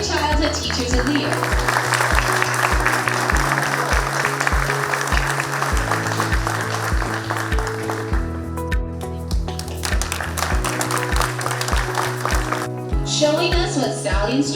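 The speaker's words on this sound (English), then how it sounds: "let's give a big round of applause to your" Audience at an early childhood teachers of the year ceremony applauding over loud, rhythmic music with a thumping bass line; the clapping is a dense wash under the music, which breaks off briefly midway before resuming.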